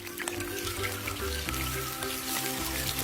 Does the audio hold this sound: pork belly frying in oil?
yes